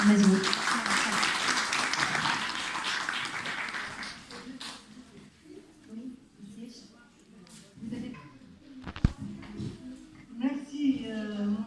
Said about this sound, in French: Merci d'applaudir Madame Mazbout.